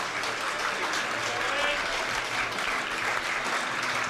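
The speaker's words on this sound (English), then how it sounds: "more applause for the former skipper" A cricket crowd applauds the former skipper at a Vitality T20 Blast match between Worcestershire Rapids and Somerset, sustained, dense clapping from a large stadium audience with no pauses.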